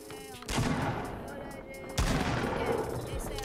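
Gunfire in the video game Fortnite: two bursts of dense, rapid shooting, the second starting about halfway through. Each burst holds steady and loud for over a second, with busy game sound throughout.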